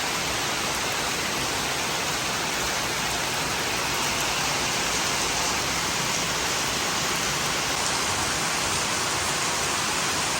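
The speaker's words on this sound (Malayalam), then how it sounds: "ഇന്നലെ രാത്രി മഴ പെയ്തതിൻ്റെ രണ്ട് ക്ലിപ്പ് എടുത്ത് വെച്ചിട്ടുണ്ട്" Steady, dense rainfall at night hisses evenly throughout, a constant wash of drops with no voices or other sounds standing out.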